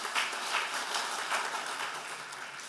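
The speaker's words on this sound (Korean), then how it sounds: "오늘 은혜로운 말씀을 전해주신 목사님께 감사의 박수를 드리겠습니다" A roomful of men at a church prayer meeting claps in thanks to the pastor, giving dense, steady applause with a slight pulsing rhythm that carries on without pause.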